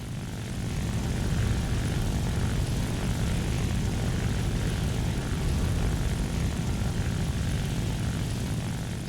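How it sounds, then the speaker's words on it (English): Propeller-plane engine roar in a War Thunder air battle against a P-47 fighter. It drones at a constant level and stays loud and dense for nine seconds, with no voices. "There's an enemy plane. Another juicy P-47 for me to shoot down."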